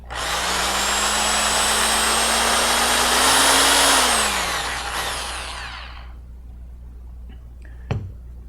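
A power drill mixes pearl pigment into a gallon of Plasti Dip, a loud steady whine that rises slightly in pitch, then winds down and stops, leaving a quiet room and a brief knock.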